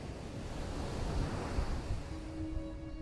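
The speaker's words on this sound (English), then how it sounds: "rolling waves break onto sweeping golden beaches" Ocean waves break onto a sweeping golden beach in Western Australia where the Swan River meets the Indian Ocean, a steady, soft, continuous surf wash with a gentle swell in the middle, heard from a distance with no voices.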